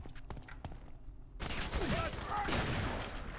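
Weapon fire in the shooter F.E.A.R. 3 from a grenade launcher or shotgun, a few sharp reports followed by a loud, sustained burst of firing with voices underneath.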